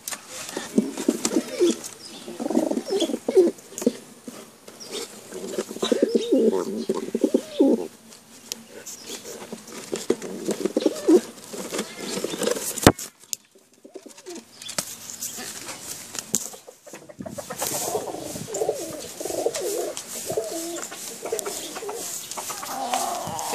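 Soft racing pigeon cooing over a rustling background, with bursts of wing flapping and a sudden clatter partway through, then quieter ambient noise.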